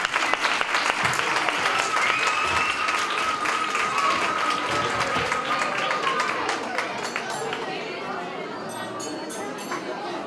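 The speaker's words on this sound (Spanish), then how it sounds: "Otro fortísimo aplauso para ellos." A school Christmas festival audience gives loud, dense, sustained applause for four-year-olds who sang a carol. Crowd chatter and a brief high whistle-like tone run through the clapping.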